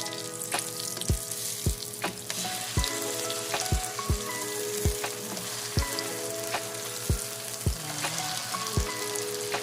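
Dried fish, tuyo and daing, frying in hot oil, with a steady crackling sizzle and sharp periodic pops and spatters repeating roughly every half second, close and moderately quiet.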